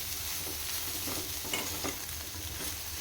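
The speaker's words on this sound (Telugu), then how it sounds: "వేసుకున్న తర్వాత ఒకసారి మొత్తాన్ని ఇలా కలిపేసేయాలి" A red chili chutney mixture being stirred in a pan, a steady close scraping and faint sizzle with spoon strokes over about three seconds, no talking.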